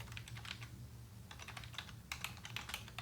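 Someone types text on a computer keyboard in quick, uneven bursts of keystrokes. The clicking is close but quiet, with no talking.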